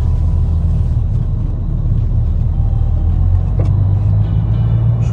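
A car pulls away and drives along a road in Saudi Arabia, its engine a continuous low rumble close by, with steady road noise and no talking.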